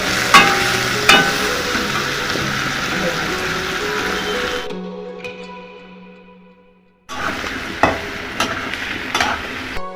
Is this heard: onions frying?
yes